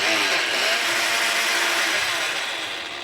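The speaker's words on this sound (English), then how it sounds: "All we're going to do now is take it off the stove and put it into a blender." A blender whirring at full power as it purees cooked pumpkin softened with onion sweated in olive oil, a loud steady roar held for several seconds that eases slightly toward the end, with no voices.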